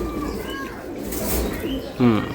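Giribaz pigeons kept in a cage coo softly in brief low throaty calls, with a clearer coo near the end, under and between a man's speech close by.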